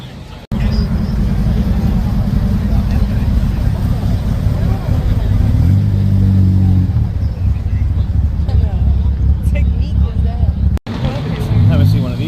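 A Toyota Supra's engine rumbles at the Daikoku Parking Area car meet in Japan, a loud, steady low drone with a rising rev midway, as people talk over it.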